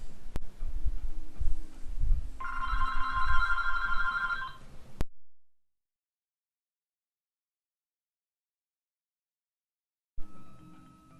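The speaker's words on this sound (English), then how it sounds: "And there's my phone." A phone rings beside a gaming session: a repeated electronic ringtone sounds for a couple of seconds over a low hum, then stops and the room falls silent before faint noise returns.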